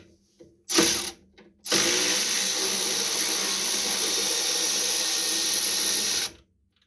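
A ratchet fitted with a 1/2-inch socket loosens the alternator nut on a Bobcat Melroe M600 skid loader. Two short ratcheting bursts come first, then a long, steady, close clicking run lasting several seconds.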